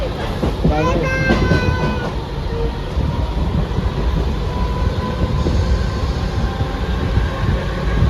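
A suburban local train runs from Dadar to Virar with a steady, close rumble of wheels and carriages, while brief voices sound near the start.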